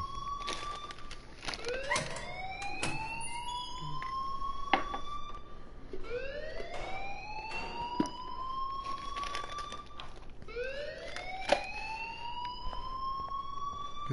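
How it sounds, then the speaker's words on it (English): A school alarm in the video game Life is Strange wails steadily, its rising electronic sweeps repeating about every four seconds, loud and continuous with no voices over it. "please turn off that alarm since that's your job"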